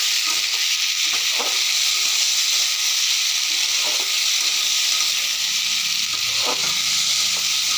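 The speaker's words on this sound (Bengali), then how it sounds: "এই ছোলা ভেজানো আছে আর আলু একটু কেটেছি, এগুলো দিয়ে দিলাম, দিয়ে নাড়াচাড়া করছি" Soaked chickpeas and cut potatoes are stirred in hot oil, a loud hissing fry running throughout with a handful of scattered spatula knocks and scrapes, no voices.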